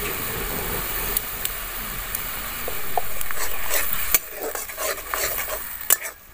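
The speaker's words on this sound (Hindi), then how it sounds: "किया हुआ सरसों का बीज और ग्रीन चिली डाल रही हूँ मैं" Mustard seeds and green chilies fry in hot oil for a Bengali flat bean dish. A steady sizzle runs throughout, broken by sharp clinks and scrapes of a stirring spoon against the pan, growing busier toward the end.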